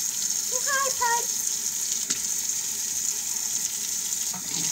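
Running water rinses a dog during a bath, a steady hissing flow that continues throughout at moderate level, with a few faint squeaks and a brief knock.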